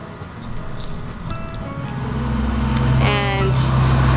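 A city bus in Montreal rumbles past close by, its engine drone rising and swelling with a deepening low hum and brief higher tonal whine as it goes by.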